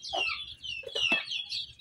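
Native Bengali hens cluck close by while chicks peep in high, thin chirps, a busy little flock with no voices.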